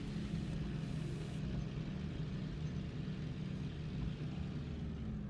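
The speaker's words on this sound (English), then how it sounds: "Sounds like a cool plane, actually." A taildragger airplane's engine in a flight simulator game drones steadily at a low, even pitch, continuous and fairly faint throughout while the plane taxis.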